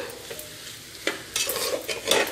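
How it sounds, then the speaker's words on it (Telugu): Fresh coconut being stirred into fried onions for a jackfruit brown rice biryani, with a faint ongoing sizzle and repeated scraping strokes of a spoon against the pan that grow busier toward the end; close, no speech. "ఇందులో నేను ఫ్రెష్ కోకోనట్ వేస్తున్నాను కోకోనట్ వేసుకొని మళ్ళీ చక్కగా కలిపేసుకుంటున్నాను"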